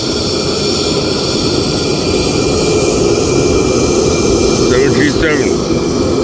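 A Boeing 737 jet engine drones steadily and loudly on an airport ramp, a constant roar with a thin high whine throughout, while voices talk faintly over it.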